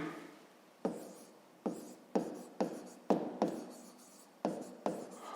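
Chalk or marker strokes writing a math solution, about eight sharp taps, each followed by a short scratching trail, close and fairly quiet in an irregular rhythm.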